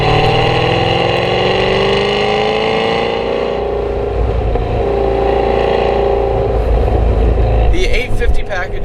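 A Hennessey 850 HP Cadillac CTS-V with a supercharged LT4 V8, ported heads, custom cam and boost pulley roars loudly and close, its engine pitch sweeping up under acceleration and then settling into a sustained drone, with a voice speaking over it.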